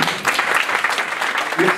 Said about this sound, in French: je vous propose que ce soit vous qui applaudissiez l'ASBL Union et l'organisation de cet événement